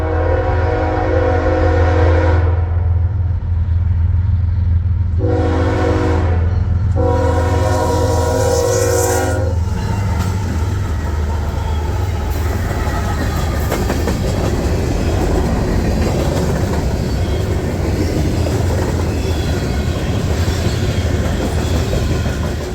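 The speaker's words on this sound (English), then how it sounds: "This train has 3 ES-44 ACs leading." A Norfolk Southern freight train led by three ES44AC locomotives rumbles past with a sustained horn blast at first, then steady rolling rail noise and clatter continuing loud and close.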